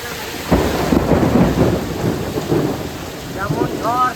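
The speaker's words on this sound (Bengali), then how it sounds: "কেমন বৃষ্টি দুটোই একত্রিতভাবে শুরু হয়ে গেছে এই দিকে ঝড়টা লাগছে প্রচণ্ড হারে" Evening village thunderstorm with heavy rain and strong wind, a loud dense roar of rain and gusts with rumbling thunder throughout, close and steady, and a few faint tonal sounds near the end.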